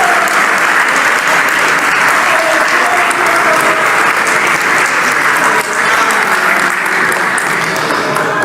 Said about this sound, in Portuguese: Vocês podem aplaudir a Jesus Cristo, adoradores, adoradoras.